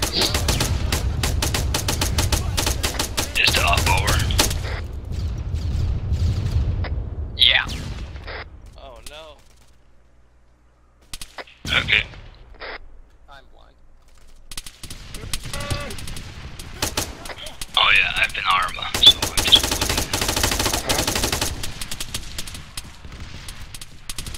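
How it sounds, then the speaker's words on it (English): Rapid bursts of automatic gunfire rattle in a shooter video game, loud volleys separated by brief quiet gaps, with excited voices talking and laughing over the shooting. "I ran out of bullets as soon as I started shooting."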